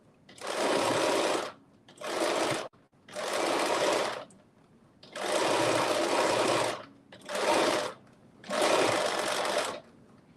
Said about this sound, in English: I just stretch my fabric out just a little bit as I'm sewing.